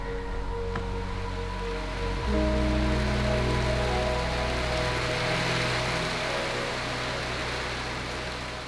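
Rain falls outside as a continuous soft hiss and patter, accompanied by a steady low mechanical hum that shifts slightly partway through and gently fades toward the end.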